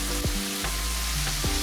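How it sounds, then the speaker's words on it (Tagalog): Steady, close sizzling of chicken thighs frying in hot oil, with a few light clinks and scrapes over the crackle. "Once ang mantika ay nasa tamang init na, ay prito na natin ang chicken thighs."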